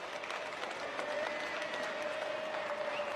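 Wedding guests clap for the bride and groom, a dense, moderately loud round of applause that holds steady throughout with a faint tone ringing underneath.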